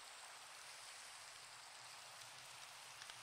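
Rain falling in Minecraft, a steady, soft hiss of rainfall that continues evenly without pauses, fairly quiet overall.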